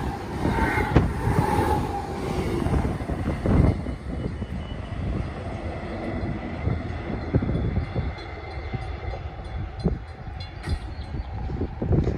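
A train on the Armadale Line rumbles past at speed near Welshpool Road, a steady broadband roar with rattling wheels, loud and close throughout, no voices.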